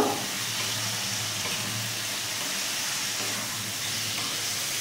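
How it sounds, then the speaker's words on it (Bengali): Fried paneer is stirred into a capsicum paneer curry in a hot pan, giving a steady, soft sizzle and hiss that stays even throughout with faint stirring underneath. "এবারে যে পনিরগুলো ভেজে রেখেছিলাম সেগুলো দিলাম, দিয়ে এগুলো সব মিশিয়ে নেব।"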